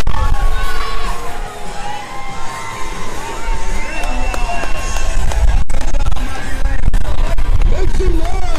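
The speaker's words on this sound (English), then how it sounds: "Cheer them on." A loud crowd cheers, whoops and shouts continuously at a strongman car walk event in Texas, with the noise sustained throughout the clip.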